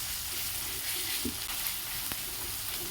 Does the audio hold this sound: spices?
yes